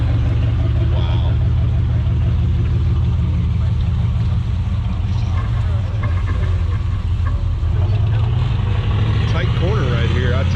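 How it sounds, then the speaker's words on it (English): A Fox body Ford Mustang drives past at an outdoor car show, its deep engine rumble steady and loud with a rising note near the end, while people talk nearby. "Here comes that Fox body through again."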